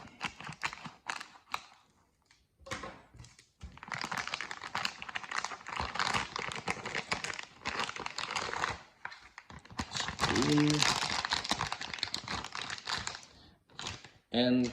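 Packaging foam and wrapping crinkle and creak in bursts while a BigTreeTech TFT screen is unboxed up close, with pauses between handling and a person talking at times.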